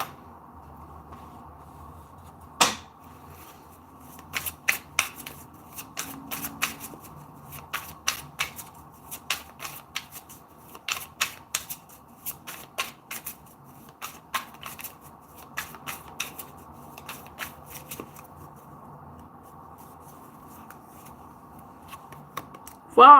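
Animal spirit cards are shuffled and picked in a quiet room, with soft repeated riffles and flicks in irregular bursts and some quiet sounds behind.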